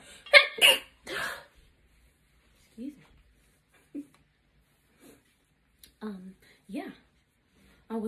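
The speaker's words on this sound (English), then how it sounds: "I knew it was coming and I didn't want to miss out on a sneeze" A person's sneeze bursts out loudly near the start, with two or three sharp explosive blasts close together, followed by quiet gaps and a few brief soft voiced sounds or breaths.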